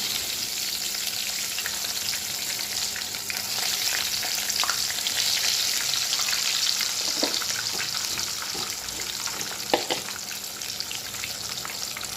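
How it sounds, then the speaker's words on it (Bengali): Steady, crackling sizzle of eggplant, potato and other vegetables frying in hot oil in a wok, close and continuous, with occasional louder pops and stirring scrapes. "কড়াতে তেল বসিয়েছি তেলটা গরম করতে দিয়েছি করব পাঁচ রকম ভাজা"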